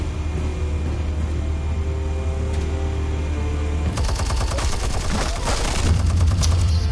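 Bursts of rapid gunfire and a rumbling blast from a Batman Telltale Series video game, starting after a quiet stretch with a low hum and then continuing in dense, loud volleys to the end.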